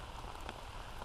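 Steady rain falling at a campsite in the Delaware Water Gap, a soft, even patter of drops on surfaces, faint and constant through a very short moment with no voices.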